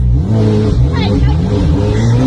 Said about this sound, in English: You cannot just be driving this loud car in this neighborhood at all hours.